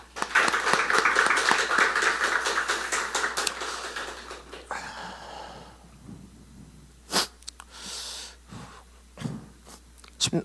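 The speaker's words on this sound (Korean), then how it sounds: "박수 한 번 더 쳐주세요." An audience claps at a Happy Time course completion testimony, dense and loud at first, then thinning and stopping after about four seconds, leaving a few scattered breaths and small noises.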